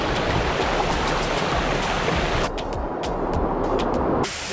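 A waterfall at Mt. Carmel in Grenada pours in a steady, loud, unbroken roar of rushing water that stays close and continuous throughout, with no voices.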